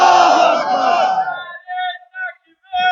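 A large rally crowd roars a slogan in unison, a loud sustained collective shout that fades out after about a second and a half, followed by a single speaker's voice in short bursts.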